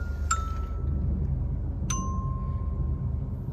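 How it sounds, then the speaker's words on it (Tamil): Two clear bell tones ring out from music played through an upgraded two-way passive car audio system with a processor in a Škoda Kylaq, the first early and the second about a second and a half later, each decaying slowly. "இங்கே ஒரு பெல் சவுண்ட் வரும்."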